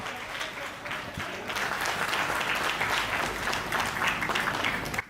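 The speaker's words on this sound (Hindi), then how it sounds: "दोनों हाथ उठाएं, जोरदार तालियों में तब्दील करें विनोद पाल" A live comedy show audience applauds a comedian with dense, sustained clapping that rises and holds steady before cutting off at the end.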